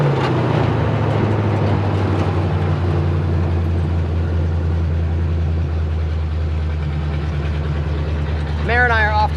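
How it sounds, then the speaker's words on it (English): A hot rod motor idles with a steady, loud low rumble throughout, holding an even drone; a brief voice-like warble rises near the end over the engine. "Motor there is."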